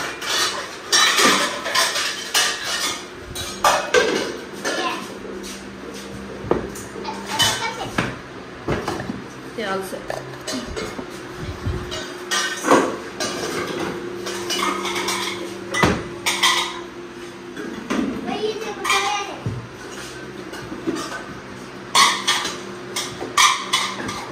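Plates and steel dishes clatter and clink as they are handled and set down in a home kitchen, with repeated sharp knocks and rattles at close range under ongoing conversation.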